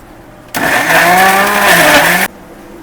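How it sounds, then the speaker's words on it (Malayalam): Mixer grinder blending four tomatoes, coriander stems and salt into a paste, a loud, close motor whir that starts abruptly, runs steadily for under two seconds with slight pitch shifts, then cuts off sharply. "ഈ മിക്സി ജാറിലേക്ക് നമുക്ക് ഒരു 4 തക്കാളിയും കൂടി ഇടാം"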